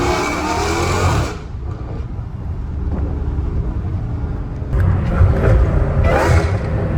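A supercharged Dodge Challenger Hellcat Redeye with an aftermarket intake roars loud and close, dipping briefly before rising again in heavy revving surges.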